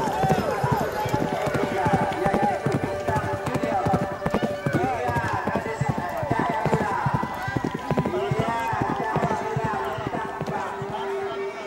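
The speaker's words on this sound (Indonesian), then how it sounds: "secara berkala pacuan kuda dengan joki anak-anak berusia belia" Horses race in Tanjung Menangis with young children riding as jockeys, their rapid, continuous hoofbeats drumming steadily throughout while a voice narrates over them.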